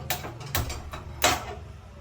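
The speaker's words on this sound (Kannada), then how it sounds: "ಈಗ ನಾನು ಕುಕ್ಕರ್ ಇಟ್ಕೊತಾ ಇದ್ದೀನಿ" A pressure cooker is set down on a kitchen stove with three clattering metallic clunks in quick succession, close and fairly loud.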